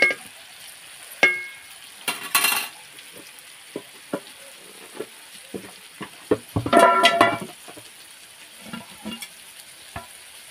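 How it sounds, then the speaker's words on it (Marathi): Chicken curry sautéed on a wood-fired stove, with sporadic spoon scrapes and clanks against the pot over a faint background hiss, plus a busier burst of stirring midway. "असे परतून घेते."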